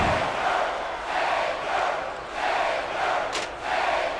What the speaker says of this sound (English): This capacity crowd is certainly getting its money's worth here tonight